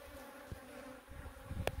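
Bees from a new hive inside a meter box, a steady close buzzing drone, with a few faint knocks and handling sounds as the swarm is worked.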